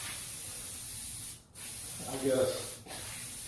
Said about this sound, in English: I can't walk and spray at the same time